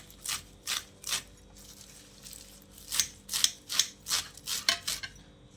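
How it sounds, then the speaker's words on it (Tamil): Fresh, tender mookirattai greens being cut, heard as a close series of crisp snips, a few spaced early on and then a quicker run of cuts near the end, with no talk. "கீரையை நம்ம இப்போது கட் பண்ணிக்கலாம்."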